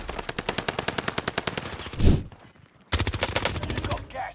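Burst-fire gunshots in Call of Duty Warzone on Rebirth Island ring out as loud, rapid, evenly spaced shots. Two strings of fire are split by a brief boom and a short pause, and a voice speaks faintly underneath.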